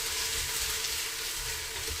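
Peppers sizzling steadily in a hot pan while being blanched for veal axoa, a continuous close hiss with no talking.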